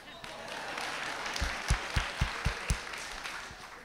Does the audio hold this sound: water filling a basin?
no